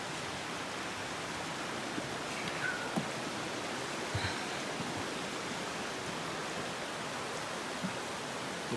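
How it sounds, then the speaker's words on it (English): A creek near Long Creek Falls on a forest trail in winter flows with a constant, even broadband rush and no clear breaks, steady throughout and fairly close. "It's a pretty creek."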